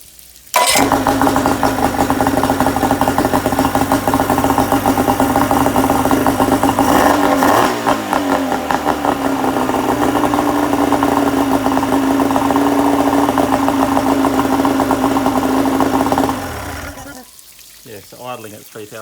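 An outboard motor cranks and catches, then runs loud and steady at a fast idle with a constant hum for about sixteen seconds before shutting down.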